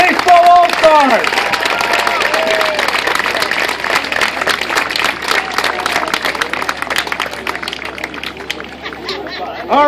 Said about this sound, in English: how about a round of applause for our 2013 Babe Ruth Mid-Atlantic Regional 13-year-old Baseball All-Stars